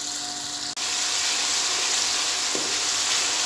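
Ginger and garlic fry in a pan with a loud, steady hiss and sizzle, cut by one abrupt momentary drop and a small clink later, with no voices.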